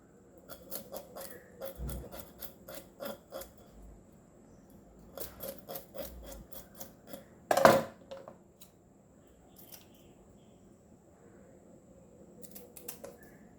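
Anchovies being cleaned and cut by hand for a Goan curry, soft close scraping and rubbing strokes in short bursts with a louder knock midway, otherwise quiet.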